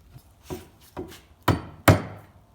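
A chisel strikes an old hatchet being restored, landing four sharp, knocking impacts at irregular intervals that grow louder, with no talking.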